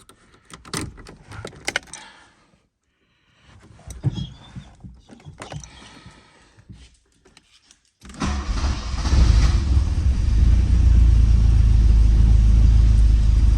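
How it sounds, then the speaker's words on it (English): Keys jangle and rattle near a Porsche 924 2.0 with automatic transmission, then the cold engine cranks, catches and settles into a loud, steady rumbling idle. "This is cold start."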